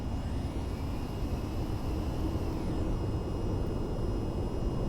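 A VTOL aircraft flies in the VTOL VR video game, a constant loud engine drone with a steady rushing roar that holds without break.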